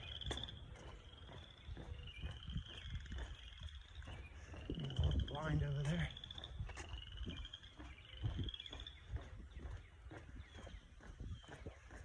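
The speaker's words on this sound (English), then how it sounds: "Just listen to the frogs." A chorus of frogs croaks continuously in the background outdoors at the Myeerah Nature Preserve, while someone speaks briefly nearby.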